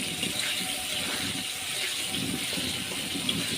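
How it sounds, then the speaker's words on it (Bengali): Potatoes frying in a pan of spice paste give a steady, loud, rushing sizzle, close by and constant throughout. "এই যে দেখেন এখন দিয়ে দিলাম আলু"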